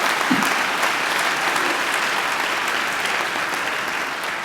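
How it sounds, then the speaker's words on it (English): A graduation ceremony audience gives a steady, full round of applause in a large hall, dense clapping holding at an even level throughout. "I think Angela deserves another great round of applause."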